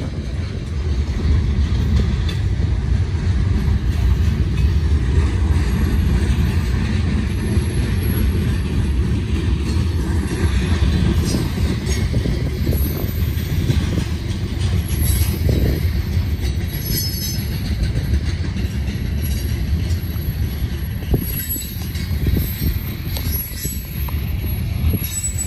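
Wheeling & Lake Erie Railway freight train rolling through an interchange, a steady loud rumble of wheels and cars with intermittent squeals and faint clicking joints, sustained throughout without talk.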